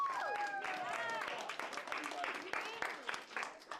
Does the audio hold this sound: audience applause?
yes